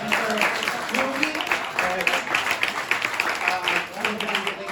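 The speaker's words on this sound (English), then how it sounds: "can we give a round of applause for Louie?" An audience at a training workshop breaks into lively applause, rapid overlapping claps with cheers and voices mixed in, pulsing in waves across the room.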